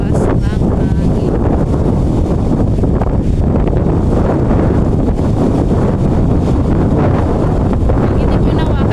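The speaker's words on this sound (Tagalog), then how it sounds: "Naririnig ko mga sobrang lakas ng hangin." Powerful wind roars steadily into a phone microphone during super windy weather in Vietnam, a loud, constant buffeting rush that barely lets up throughout.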